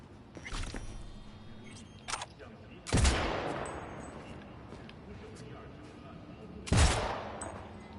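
Gunshots in the video game Cyberpunk 2077, two sharp loud blasts about four seconds apart, each trailing off in a reverberant tail, with lighter game sound effects in between.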